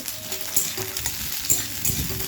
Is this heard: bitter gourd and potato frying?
yes